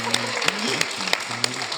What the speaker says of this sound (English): An extra double round of applause for Zuza.